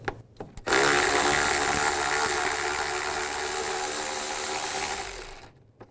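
A power ratchet or impact tool runs for about five seconds while backing out a 10mm bolt with a socket on a 2005-15 Nissan Xterra during an AC condenser fan replacement, loud and close, with brief clicks before and after.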